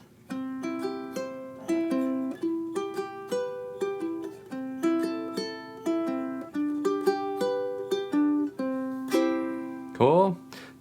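Fingerstyle ukulele playing a song in a swung eighth-note rhythm, a steady loping stream of plucked notes with bass and melody interwoven, close and clear, ending with a brief bending flourish.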